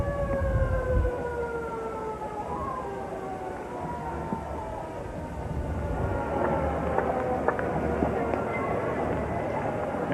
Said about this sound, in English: And a little trailing siren never hurts to underline.